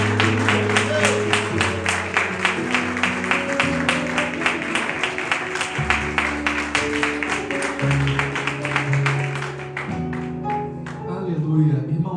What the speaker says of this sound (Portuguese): Você pode aplaudir bem forte,